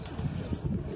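Large high-flying pigeons at a loft in Jodhpur, Rajasthan, give soft low coos in a short, faint burst against a steady background hum.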